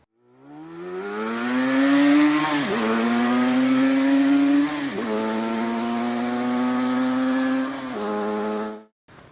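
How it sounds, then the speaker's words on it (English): A loud motorcycle engine revs steadily, rising in pitch, with two brief dips as gears shift, then cuts off abruptly near the end. "Yes, it was a motorcycle."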